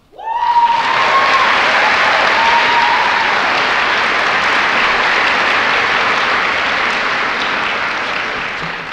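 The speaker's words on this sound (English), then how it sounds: "Please join me in giving a round of applause to these selfless folks who have expertly guided us to this point." A convocation audience at the University of Georgia's Grady College fills a hall with loud, sustained applause that swells quickly and holds steady for several seconds, dense and even, with no voices rising above it.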